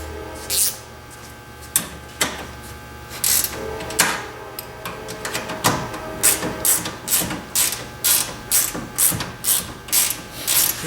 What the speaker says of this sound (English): And tighten the nuts in here right where it is.